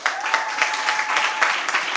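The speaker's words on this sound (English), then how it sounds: "I want us to clap for all our amazing judges" A seated audience at a secondary schools moot competition claps for the judges, a steady even patter of many hands with slight swells.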